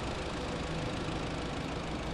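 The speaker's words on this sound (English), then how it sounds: "Sounds like a diesel." A diesel car engine running in Car Dealer Simulator, a dense, steady idle with a low rough knock, loud and close and unbroken for the whole stretch.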